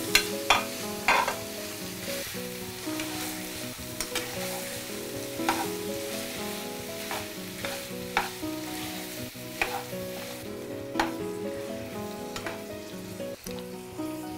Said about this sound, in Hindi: जैसे ही घी गरम हो जाए इसमें हम पनीर डालेंगे और साथ साथ चलाते रहेंगे।